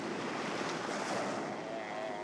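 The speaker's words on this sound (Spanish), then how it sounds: "En una mañana de mar turbulenta" Rough, turbulent sea on the Pacific coast of Vancouver Island at Pacific Rim National Park, heard as a steady, loud wash of surf and wind noise with no pauses.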